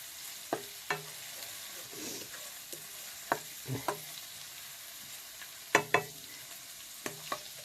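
Onions stirred with a small spatula in a hot pan while cooking chicken curry with rice, giving a soft steady sizzle broken by several sharp scraping clacks of the spatula against the pan, close and fairly clear.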